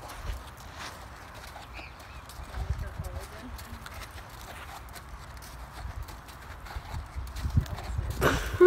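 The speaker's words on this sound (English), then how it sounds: "how do you feel about riding this insane horse?" A horse being ridden, its hooves clip-clopping softly and irregularly at a distance, with wind and handling noise building toward the end and people talking nearby.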